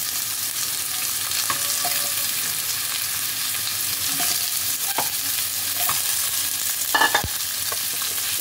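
Pumpkin and ridge gourd stir-fried in hot oil, a constant loud sizzle with occasional spatula scrapes and clacks against the pan.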